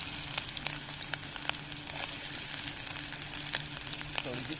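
Chopped onion frying in a little oil while a village-style country chicken curry is being made, giving a steady close sizzle with scattered crackles and pops throughout, no talk over it.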